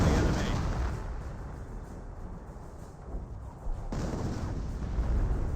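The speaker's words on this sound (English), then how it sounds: "Another 25 pounder barrage there, getting some damage on these light vehicles." A 25-pounder artillery barrage in the strategy game Company of Heroes: a continuous rumbling roar of overlapping blasts, moderately loud, surging again toward the end.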